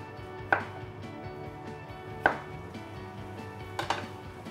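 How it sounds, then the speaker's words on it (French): A knife slices potato cylinders on the bias, giving three crisp, close chopping strikes on a board, spaced about two seconds apart, with no talk. "je vais me contenter de les couper en biseaux, vous voyez"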